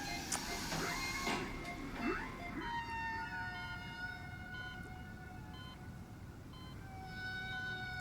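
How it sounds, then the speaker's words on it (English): Eerie, drawn-out whale-like calls in the soundtrack of the horror series Chiller, episode 'Toby': layered gliding, wavering tones that rise and fall over a low rumbling bed, steady and fairly loud throughout. "What's with the whale noises?"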